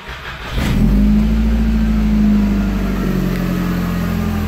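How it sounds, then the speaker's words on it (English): A 1984 Volkswagen Jetta with a converted 1.8T engine starts up and settles into a steady, loud, close idle with a deep low rumble. "you should have a nice running modern day engine in your very old chassis"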